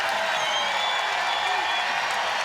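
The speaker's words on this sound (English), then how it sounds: "There's the crowd." A basketball arena crowd at Purcell Pavilion roars with cheering and applause, a steady loud wash of noise throughout.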